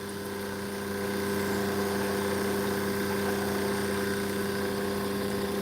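A lapidary grinding wheel soaked in oil runs steadily while opal is cut on it, a continuous motor hum with strong tonal bands that swells slightly after the first second and stays even throughout.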